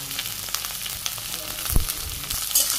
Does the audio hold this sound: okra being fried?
yes